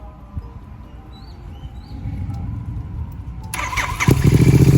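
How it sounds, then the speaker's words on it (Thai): A 2019 Royal Enfield Interceptor 650 motorcycle engine cranks and catches near the end, then settles into a loud, steady running rumble after a few seconds of low background noise. "อ่าสตาร์ทติดทีเดียวรู้เลย"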